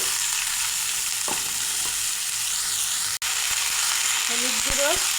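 Chopped radish frying in hot oil with onion, panch phoron and bay leaf, a steady broadband sizzle with a few scraping stirs near the end and a brief dropout midway.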